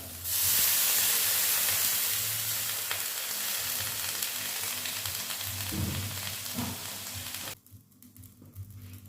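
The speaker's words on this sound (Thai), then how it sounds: "เสร็จแล้วใส่น้ำลงไปนะครับ" Water goes into sizzling Thai curry paste in a pot, a loud burst of hissing steam and bubbling frying that gradually eases, then cuts off abruptly near the end, heard close with no talk.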